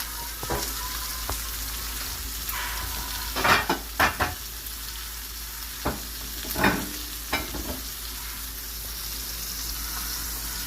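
Steaks and lobster tails cooking in a pan, with a steady sizzle running throughout and several sharp clinks and scrapes of utensils against cookware.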